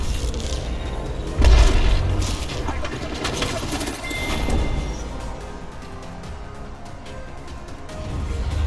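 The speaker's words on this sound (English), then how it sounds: "Look out for grenade." Grenade explosion in the video game Apex Legends, one deep boom near the start ringing out amid ongoing gunfire and match sounds, with voices around it.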